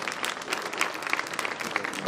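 Dense, steady applause from an audience at a stage event for a results announcement, many hands clapping loudly throughout.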